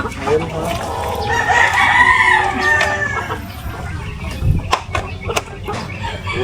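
Chickens and chicks in a Filipino yard, with a rooster crowing and hens clucking close by, and people talking in Tagalog over and between the calls.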